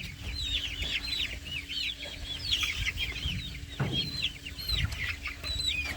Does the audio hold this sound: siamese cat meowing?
no